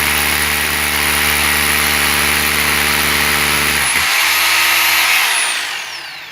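A hammer drill bores into brick with a loud, steady, buzzing whine held close to the microphone, then cuts off and spins down near the end.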